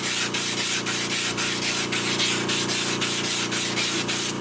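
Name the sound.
sanding a wooden disc vase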